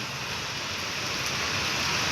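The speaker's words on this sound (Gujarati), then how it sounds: "વરસાદને હવે તો ચાલુ થઈ ગયો છે" Steady monsoon rain falling, a dense even hiss of drops with no break throughout.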